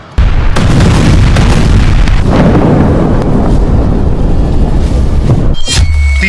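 A massive explosion erupts into a long, deep rumbling roar that keeps booming for several seconds before a brief crackle at the end.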